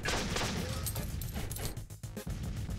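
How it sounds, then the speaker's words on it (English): Rapid volleys of pirate cannon fire in the game Flinthook, a dense crackling fusillade of repeated blasts with short dips, fairly quiet overall and mixed with other game effects. "they're pirates, I guess, so they rely a lot on their cannons"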